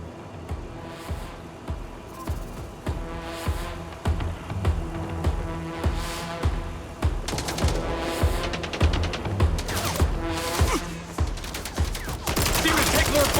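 Bursts of gunfire aimed at bots in MindsEye, rapid repeated shots in rhythmic volleys over a droning game soundtrack, growing louder and denser toward the end.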